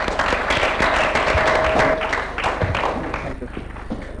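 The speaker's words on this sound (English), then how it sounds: "And a big round of applause from the audience." Audience applause at an awards show: dense, loud, sustained clapping from a crowd with voices mixed in, easing off slightly toward the end.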